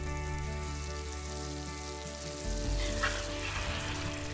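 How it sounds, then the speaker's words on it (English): Chicken stir-fried with basil leaves and spring onions in a wok gives a steady, close sizzle with a clatter of stirring that grows louder partway through, no voices. "Reintroduce the basil leaves into the wok and add the spring onions."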